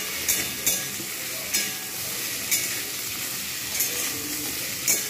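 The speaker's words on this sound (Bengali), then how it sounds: "বরবটিগুলো অতিরিক্ত ভাজার দরকার নেই।" Yardlong beans stir-fry in a pan over medium heat. A steady loud sizzle runs throughout, broken by a few sharp spatula scrapes against the metal at uneven intervals. No voices.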